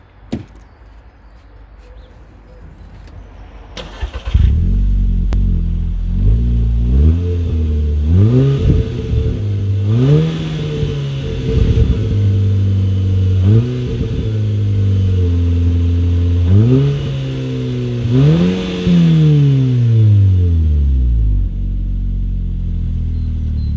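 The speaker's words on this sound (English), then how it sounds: "So let me just start it up for you so you can hear it" Audi S3 8P with a 2.0 TFSI engine and stainless exhaust starts up, settles into a loud, close idle, then revs again and again, each rev climbing and falling back to idle.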